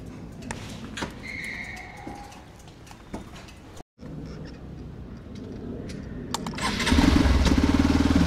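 A motorcycle engine cranks and catches, settling into a loud, throbbing idle close by, after a quieter stretch of outdoor ambience with birds chirping.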